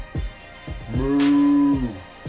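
A person imitates a cow with a single drawn-out, voiced moo that swells and fades, preceded by a few short vocal sounds, close to the listener.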